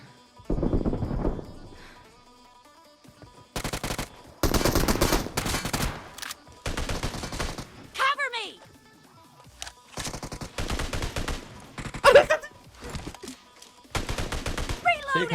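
Gunfire in a shooter video game comes in loud bursts of automatic fire mixed with single shots, with pauses between, and voices are heard talking and exclaiming over it.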